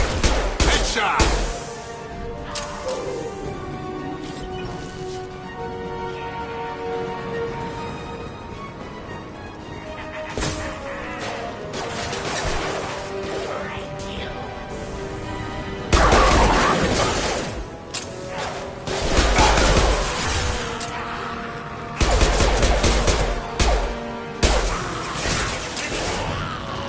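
Gunfire from the video game Mass Effect Legendary Edition, with bursts of shots and impacts over a dense game soundscape with music and effects, and occasional voices.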